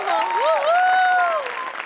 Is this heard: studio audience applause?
yes